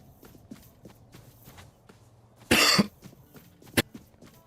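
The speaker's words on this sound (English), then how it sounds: "I missed my mute button on my mic to cough there" A single loud, close cough bursts out into a streamer's microphone, followed a moment later by a shorter sharp cough, amid faint background game sounds.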